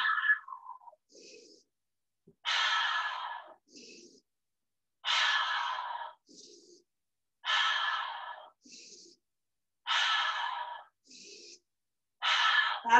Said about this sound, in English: And then take an exhale out through the mouth.